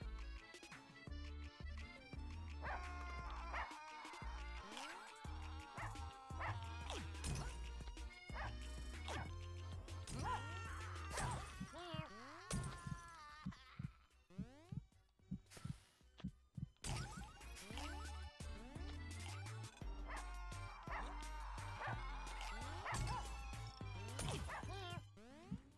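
Cartoonish dogs bark and yip in the video game Russian Subway Dogs, several quick barks and whimpers scattered among busy game music and crash effects.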